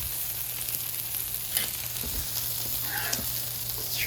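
Patty melt frying on a Blackstone griddle, a constant close sizzle with crackling spits and a low steady hum beneath, no talk.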